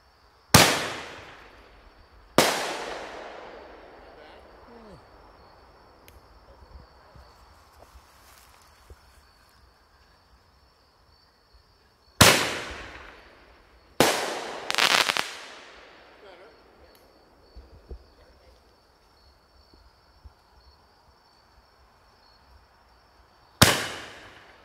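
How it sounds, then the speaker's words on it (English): Regular ball shell fireworks going off outdoors, five sharp cracking bursts spread across about twenty seconds, each decaying into a fading rumble, with quiet stretches between them. "these are just ball, regular ball shells"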